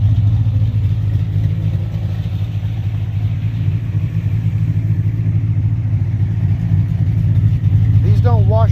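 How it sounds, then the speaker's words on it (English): A 1982 Mustang GT idles through new straight-through mufflers with a loud, deep, choppy exhaust rumble held steady throughout, someone speaking over it near the end. "Chop a bit more with these mufflers than you could the other ones."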